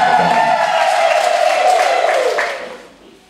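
A wedding congregation at a church service breaks into sustained ululation and applause, a bright high trilling over steady crowd noise that holds strong, then fades away near the end.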